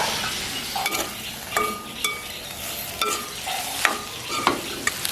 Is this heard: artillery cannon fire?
no